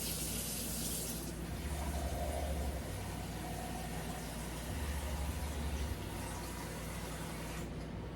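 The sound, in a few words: about 2 cups of water being poured in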